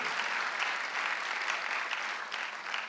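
A church congregation claps together during a Sunday worship service, a steady, even wash of hands heard from a distance, fairly faint and alone without speech.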